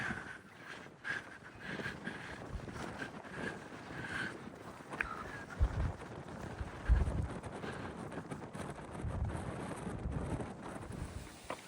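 Strong coastal wind buffets the microphone on a walking trail in southwest Victoria near wind farms, a constant roaring rush with louder gusts and thumps, no voices.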